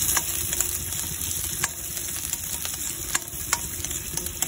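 Onions sauté in oil in a pan on a home stove, a steady close sizzle and crackle with scattered sharper pops and faint stirring, no voices.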